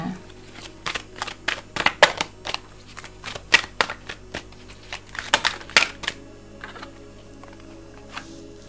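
Tarot cards being shuffled and handled close up, a string of sharp riffling snaps and flicks in irregular bursts, fairly quiet, with a low hum underneath.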